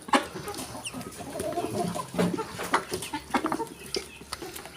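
A flock of chickens clucks and murmurs continuously nearby, with scattered sharper calls over a busy outdoor background.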